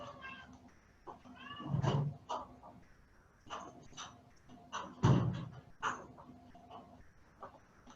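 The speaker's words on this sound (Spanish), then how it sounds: "fui a sacar al gato que estaba a los gritos" A cat meows loudly and repeatedly in short, insistent yowls, close and clear, with a couple of dull thumps mixed in and no talk over it.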